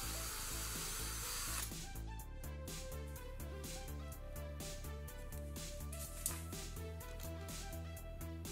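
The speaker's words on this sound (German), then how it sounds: "Und dafür brauche ich einen 2 mm Bohrer." A small electric drill with a 2 mm bit bores holes for model railway lamps on an N-scale layout module. It whirs steadily with pulsing, rhythmic motor bursts, close and fairly quiet, after a short hiss at the start.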